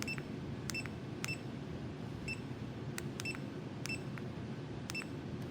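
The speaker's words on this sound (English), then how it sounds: "it'll beep to tell you that's happening" Short electronic beeps from a 16-line self-leveling green laser level repeat at irregular intervals over a steady low hum, some coming in quick pairs.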